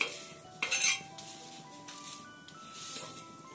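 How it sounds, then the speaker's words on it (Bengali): Dried red chillies and bay leaves, still damp from washing, fry on a hot tawa, with clinking metal and scraping of a utensil, a louder clatter near the start, then a faint crackle underneath. "এটাকে একদম শুকনো করে ভেজে নেব।"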